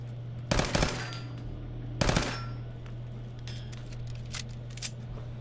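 A muzzled armor-piercing 10mm pistol in Fallout 4 fires two sharp, loud bursts about a second and a half apart, followed by fainter clicks and clinks of mechanisms and casings.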